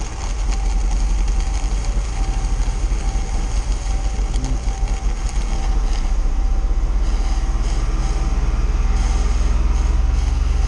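1995 Volvo 960 engine held at about 2,000 RPM during a Seafoam treatment: a loud, steady, low rumbling drone fills the whole stretch, continuous and close, with no talk.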